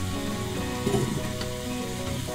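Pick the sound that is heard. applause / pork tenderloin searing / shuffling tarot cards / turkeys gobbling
pork tenderloin searing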